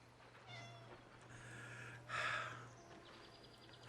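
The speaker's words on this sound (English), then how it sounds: "There's a kitty cat." A cat meows softly a couple of times, drawn-out and faint, over a low steady hum in a quiet room.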